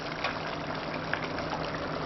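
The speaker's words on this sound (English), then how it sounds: "Pour in some cream." Cream pours into a hot pan of plump crayfish tails, a steady broadband sizzle and bubbling hiss close by, fairly even throughout with a slight liquid splash near the middle.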